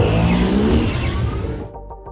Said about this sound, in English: We have the Tron motorcycles.